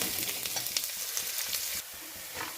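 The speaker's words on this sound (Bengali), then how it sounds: "পেঁয়াজটাকে ভাজতে হবে, যতক্ষণ না পেঁয়াজটা লাল রং আসছে ততক্ষণ অবধি পেঁয়াজটা ভাজতে হবে," Onions frying in a pan, a close, bright crackling sizzle with stirring scrapes and small pops, steady for most of the clip before easing slightly softer near the end.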